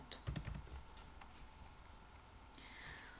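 Keystrokes on a computer keyboard while typing short sentences into the Miro online whiteboard, a quick cluster of close taps up front, then sparser soft clicks.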